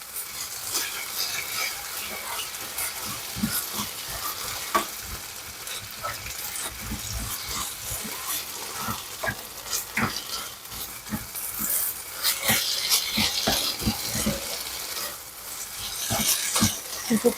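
Onions stirred and stir-fried in a pan for a side dish, giving a steady close sizzle broken by repeated scraping and tapping of the utensil against the pan, with no talking.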